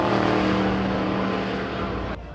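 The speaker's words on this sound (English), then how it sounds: "they can't even hear me because the car's so loud" Race car engine roaring loud and close at Daytona International Speedway, a steady dense drone that holds for about two seconds before cutting off abruptly.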